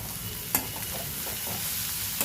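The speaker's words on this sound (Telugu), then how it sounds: "కలిపి ఈక్వల్గా వేగుతాయి ఉల్లిపాయ ముక్కలు, కాకరకాయ ముక్కలు" Onion and bitter gourd slices fry in a pan with a constant bright sizzle, close and steady, with a couple of sharp clicks from a spatula stirring the pieces.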